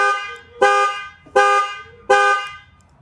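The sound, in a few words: 2013 Ford F150 panic alarm honking via key remote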